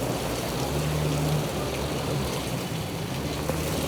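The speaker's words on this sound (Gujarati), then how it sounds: "ફૂલ વરસાદ ગાઈસ" Heavy monsoon rain pours down in Ahmedabad, a steady dense hiss of drops with a low rumble of water underneath, continuous and loud throughout with no speech.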